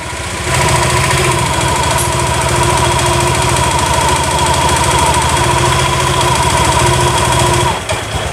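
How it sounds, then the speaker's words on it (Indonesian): A Honda Vario 150 scooter engine runs steadily with a loud, continuous buzzing drone that starts abruptly and cuts off near the end. "ini motor hidup"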